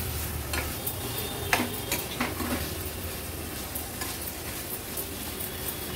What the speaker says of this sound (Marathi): हाय फ्लेमवर छान हे मिक्स करून घेतलंय